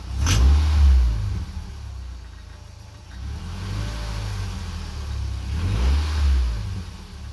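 A Nissan S14.5 engine revs up sharply a few times after timing adjustment, rising and falling in loud bursts with a low rumble idling between blips.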